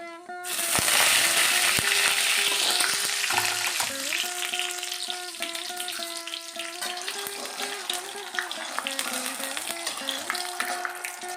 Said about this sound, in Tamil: உளுத்தம்பருப்பு ஒரே ஒரு காஞ்ச மிளகாய் போடுறேன் கருவேப்பிலை போடுறேன்